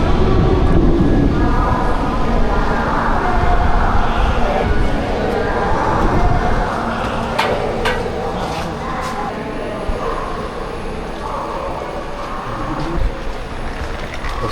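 Inside a moving Indian train with LHB coaches running from Secunderabad toward Goa, a steady loud rumble of wheels and carriage noise fills the coach, with brief high squeals and rattles, under people talking nearby.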